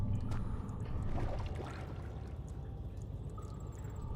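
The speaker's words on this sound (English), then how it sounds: "I hear splashes down there" Water splashing and pouring in the Amnesia horror video game, a low, distant watery wash and trickle with faint scattered knocks, quiet and continuous.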